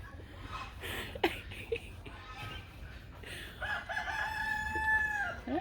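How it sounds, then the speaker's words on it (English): A rooster crows once toward the end, a clear drawn-out call at moderate distance over faint background noise and a few soft clucks. "I love this little rooster."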